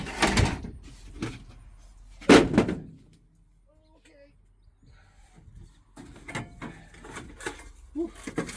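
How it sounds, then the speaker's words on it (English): At a junkyard, someone works the locked door of a Chevy square-body truck, producing a few clunks and latch rattles, the loudest near the start and midway, with quieter handling noises and faint voices between. "But I can't get that door open."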